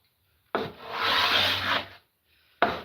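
A hand plane shaves across century-old wood in one long, steady rasping stroke of about a second and a half, close and fairly loud. It stops to near silence, and the start of another pass follows.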